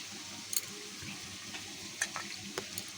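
Masala being stirred in a pan with spice water added while cooking chicken kosha, a steady low sizzle with a few light scrapes and clicks of the spoon, faint and close.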